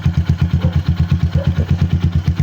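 An RC250 motorcycle engine, a China-made bike with about 34,000 on the odometer, runs steadily close by with a fast, even pulsing throb and light mechanical clatter, no voices over it.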